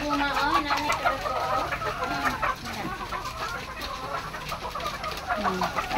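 Many chickens clucking and squawking at a poultry farm during egg collection, a busy, continuous chorus close by with people talking over it.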